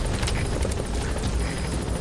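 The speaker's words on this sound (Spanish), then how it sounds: "Vale, viene el helicóptero. Helicóptero aliado." An allied helicopter in Metal Gear Solid V thumps overhead with fast rotor chop and a whining engine, loud and close throughout, without any talking.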